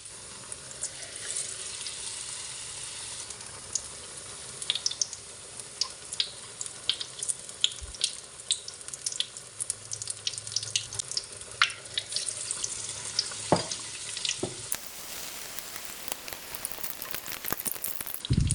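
Eggplant fritters (beguni) fry in plenty of hot oil, giving a steady close sizzle with frequent sharp crackles and pops that grow denser toward the end. No one speaks.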